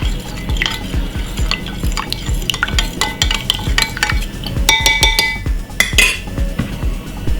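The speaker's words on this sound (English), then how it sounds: "So I remove my cover and give it a stir." A utensil scrapes and clinks rhythmically around a pot, steady repeated stirring strokes with occasional sharper metallic taps, close by.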